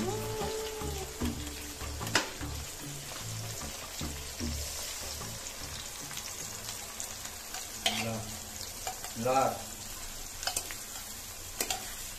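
Spice paste and tomatoes frying in a pan for a chicken dish while being stirred, a soft continuous sizzle with occasional spoon scrapes and knocks, close but quiet, with faint brief sounds in the background.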